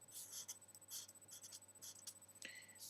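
A pen writes the Chinese character for 200 on paper in quick, soft strokes, close and faint, with no talk.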